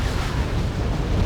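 Heavy, rumbling booms from tank cannon fire in the strategy video game Wargame European Escalation, a dense continuous low roar of explosions that stays loud across the whole moment with no talk.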